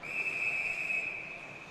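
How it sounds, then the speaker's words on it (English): A referee's whistle at a Utah versus USC ice hockey game gives one long, steady blast that carries through the whole moment over faint arena noise. "a whistle."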